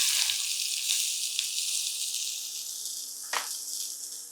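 Mustard seeds, cumin and onions fry in hot oil with a steady, close hiss and a few brief crackles and pops.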